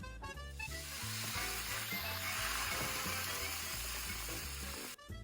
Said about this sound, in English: Once the wine is sizzling